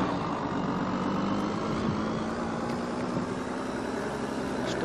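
A futuristic vehicle in the Death Stranding video game gives a steady, tractor-like engine rumble that stays close and even throughout, a low idling drone with no talk over it.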